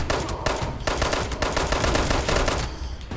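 A full-automatic pistol in Fallout 76 fires in a rapid, loud, close stream of shots with short breaks between bursts.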